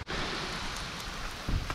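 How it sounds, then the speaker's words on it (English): Rain sweeps in along the Mississippi River, a steady broadband patter close by, ending with a low thump near the end. "We got a really thick line of rain coming from upriver."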